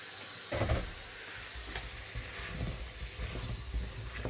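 Bottle gourd dropped into a pan of spice paste that has been fried down and slightly overcooked, giving a soft burst of sizzling and hissing that settles into a steady low frying crackle, with no talking.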